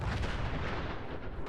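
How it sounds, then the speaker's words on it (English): Explosions and gunfire fill a chaotic Fallout 4 battle, a dense, continuous barrage of loud booms and shots with no pauses, heavy low rumble underneath throughout. "Explosions are happening a little bit everywhere."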